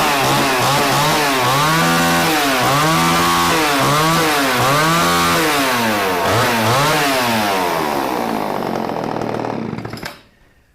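A vintage Homelite Super XL chainsaw roars loud and close, its engine pitch rising and falling in repeated swells while cutting wood, then cutting off abruptly near the end.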